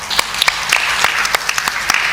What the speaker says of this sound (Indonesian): bagus, tepuk tangan yuk.